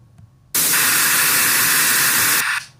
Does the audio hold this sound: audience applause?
no